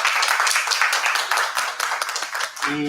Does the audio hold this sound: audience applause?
yes